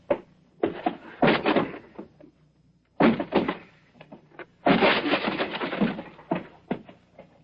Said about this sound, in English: Stand back. I'll force the door.